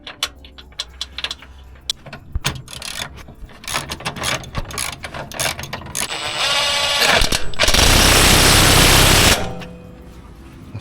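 An impact wrench tightens the control arm bolts on a Skoda Karoq, with rapid hammering bursts that build to a loud sustained rattle, preceded by clanking and ratcheting nearby.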